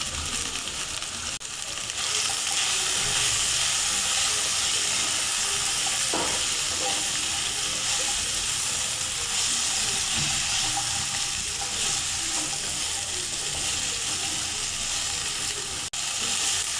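Cauliflower, potato and tomato fritters (fulori) frying in hot oil, a loud, steady sizzle that runs for many seconds, broken by a few light clinks of stirring.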